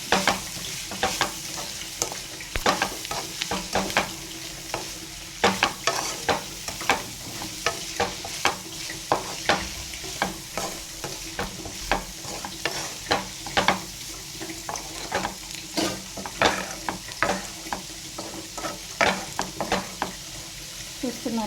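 Close up, a spatula works through a bitter gourd fry with added salt in a pan, making repeated scraping strokes at a steady rhythm over a constant sizzle, with no talking.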